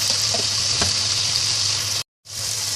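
Ground cumin and coriander sizzle in hot oil with potatoes in a Bengali-style curry, a steady loud hiss and crackle with a brief moment of silence near the end.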